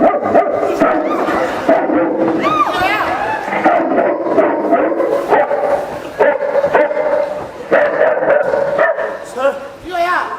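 Dog barks and yips at a Pakistani Punjabi stage drama, mixed with loud, busy talk and shouting from performers throughout.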